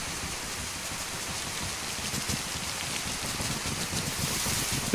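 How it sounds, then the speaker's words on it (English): Steady rain falling in the DayZ video game, a continuous dense hiss with soft pattering drops throughout, fairly loud and unbroken, with no talk over it. "Do trees block rain or something?"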